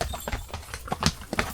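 Two horses walk along a rocky trail toward Tatay Falls in Majayjay, Laguna, their hooves giving a quick, irregular run of close clip-clops on the stones.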